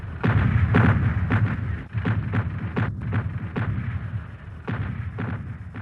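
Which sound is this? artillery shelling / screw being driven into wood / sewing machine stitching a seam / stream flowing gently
artillery shelling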